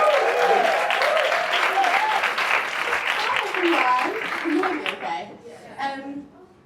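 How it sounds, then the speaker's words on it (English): Enthusiastic audience applause and cheering for the first speaker at an in-person women in sales event, dense and loud at first, with voices calling out through it before it tapers off. "So can we have a big round of applause for our first speaker?"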